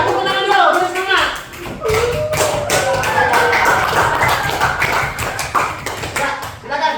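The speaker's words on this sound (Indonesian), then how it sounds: "Tepuk tangan dulu, boleh semangat." Applause from an elementary school class, a dense burst of clapping that runs steadily for about seven seconds with children's voices and chatter mixed in throughout.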